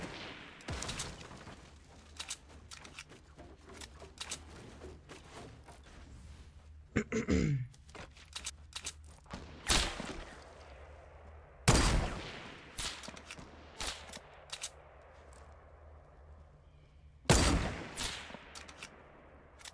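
Sharp, loud single sniper rifle shots in Fortnite ring out at intervals, with several near cracks and a few fainter distant ones, over a low game background and quiet breathing.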